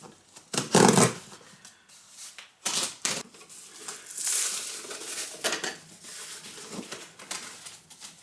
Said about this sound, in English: Okay, some styrofoam.